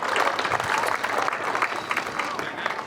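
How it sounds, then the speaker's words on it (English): A crowd applauds the finalists at a Hall of Fame ceremony, steady clapping with crowd murmur and voices mixed in. "let's get a round of applause for those 3 amazing individuals"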